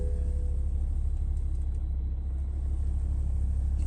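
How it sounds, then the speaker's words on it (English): A BMW 430d M Sport automatic coupe idles just after starting, giving a steady, low diesel rumble at an even level. The car is close and nobody speaks. "So once you turn the car on,"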